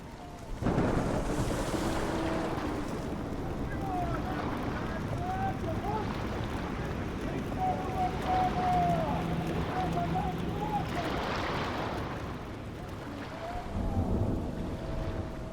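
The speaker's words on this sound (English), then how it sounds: "The thundering waves fade." Storm waves crash at sea in the video game Book of Travels, a continuous heavy roar of wind and surging water that swells louder near the start and end, with occasional creaking tones.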